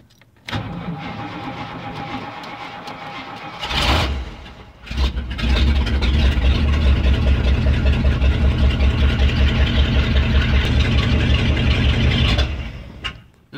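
A car engine with a sticking gas pedal starts up after a brief crank, then settles into a steady, pulsing idle that runs loud and close for several seconds before cutting off.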